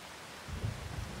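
Rain falling in Farming Simulator 25, a steady broadband hiss of downpour with a low rumbling swell building partway through, no voices.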